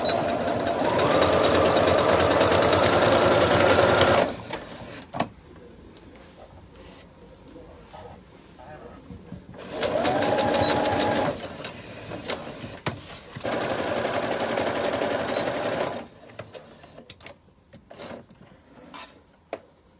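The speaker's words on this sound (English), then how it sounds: "So I'll sew that up and we'll go to the next step." A sewing machine stitches around a piece of fabric, running in two long steady bursts separated by quieter pauses with soft handling noises.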